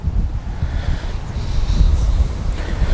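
Wind gusting across an open golf course, a loud, rough rumble of buffeting against the microphone, swelling slightly over a few seconds with no other sound.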